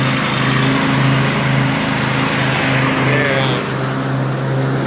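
A lawn mower engine runs steadily and loudly outdoors at a home garden, a continuous droning hum with a stable low pitch that holds throughout, no voices over it.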